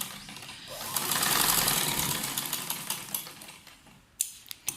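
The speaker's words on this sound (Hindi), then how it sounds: "लास्ट पे भी हमने इसी तरह से डबल सिलाई करनी जैसे कि हमने शुरू से की थी।" A sewing machine runs a double line of stitching, a close whirring hum that swells for a few seconds and then eases off, followed by a few sharp clicks and taps.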